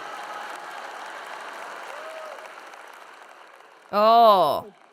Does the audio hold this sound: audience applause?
yes